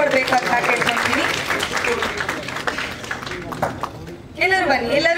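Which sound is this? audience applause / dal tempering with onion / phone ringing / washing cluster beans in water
audience applause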